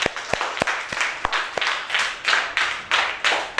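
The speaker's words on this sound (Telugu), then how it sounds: "అందరికి ఒకసారి చప్పట్లు కొట్టండి" A room of schoolchildren claps together in a classroom game, a quick burst of sharp claps followed by several rolling waves of applause, each swelling and fading in a steady rhythm.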